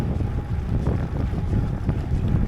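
Strong crosswind of about 25–30 km/h buffets a cyclist's microphone on a long gravel ride, a steady loud low rumble with gusty swells throughout and no talking.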